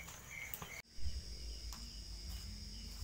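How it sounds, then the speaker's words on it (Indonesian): A steady high-pitched cricket trill runs continuously over a quiet night background, with a brief soft thump partway through. "suara jangkrik nih"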